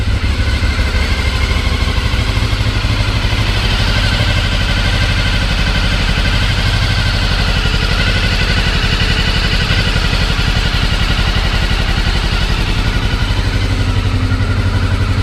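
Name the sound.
Honda VFR 750 motorcycle engine idling after carburettor rebuild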